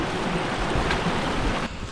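Steady broadband rush of a mountain stream flowing past a campsite in the White Clouds, continuous and close with no voices, the wash dipping slightly near the end.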